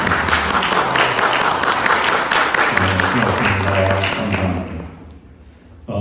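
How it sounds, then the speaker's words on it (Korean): A church congregation applauds steadily for several seconds during a Sunday service, and the clapping fades out toward the end while a voice speaks underneath. "박수로 환영해 주시면 감사하겠습니다"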